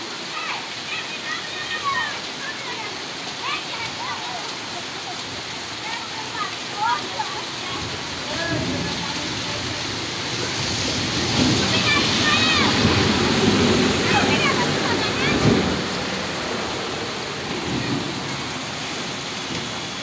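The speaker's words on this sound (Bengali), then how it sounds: "শুধু বৃষ্টি আর বৃষ্টি, বৃষ্টি আর বৃষ্টি" Steady heavy rain pours down in a dense, continuous roar that swells louder midway, with no voices.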